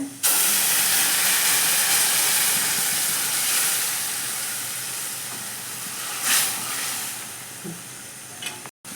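Rasam poured into a hot curry-leaf tempering for kattina saaru, a loud burst of sizzling and steaming hiss that slowly fades over several seconds, with a faint clink near the end.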